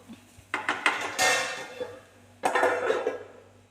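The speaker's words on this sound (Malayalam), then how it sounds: "നമുക്കിതിനൊന്ന് നന്നായി ഇളക്കി സെർവ് ചെയ്യുന്ന ഒരു പാത്രത്തിലേക്ക് നമുക്കിത്" Cooked cabbage thoran is stirred and spooned from the pan into a serving dish, giving close, loud scraping and clattering of utensils against metal in two bursts.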